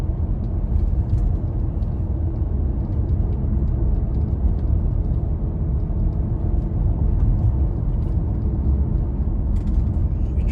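Car driving on the road while a faulty ABS wheel speed sensor is checked, a constant loud low rumble of road and engine noise filling the cabin with no break.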